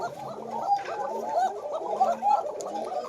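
Domestic pigeons in a farm loft, red-colored pairs, coo repeatedly in overlapping low gurgling calls, steady and close with several birds at once.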